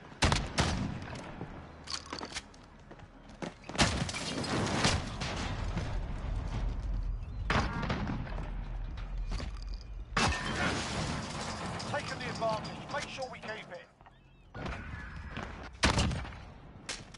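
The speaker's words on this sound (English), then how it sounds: "Gunfire." Call of Duty 2v2 match gunfire comes in repeated sharp bursts and single cracks, loud and close, separated by short gaps of quieter game noise.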